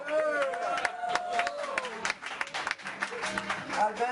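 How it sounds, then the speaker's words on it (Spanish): Audience applause at a poetry book launch, a scattered, moderately quiet round of clapping with crowd voices and murmuring mixed in. "Por favor, un aplauso para este muchacho."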